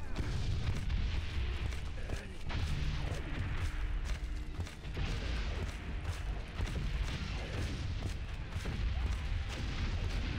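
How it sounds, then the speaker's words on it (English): Dense, continuous battlefield rumble from the First World War game Valiant Hearts, with booming explosions and artillery blasts rolling over one another throughout, loud and heavy in the low end, with no clear breaks. "How'd that one all the way down there explode?"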